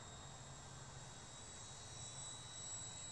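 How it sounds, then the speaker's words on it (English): A small fixed-pitch XK127 RC helicopter flies at high rates, its motor and rotor giving a steady, fairly faint high whine that holds unbroken throughout. "It's in my opinion the perfect beginner RC helicopter."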